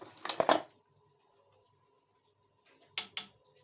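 A metal spoon clinks against a cooking pot while food is tasted for salt, two short bursts of clattering taps, close and fairly quiet, separated by a long near-silent pause.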